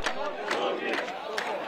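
Crowd of protesters on a Baghdad bridge chanting slogans in loud, rhythmic bursts.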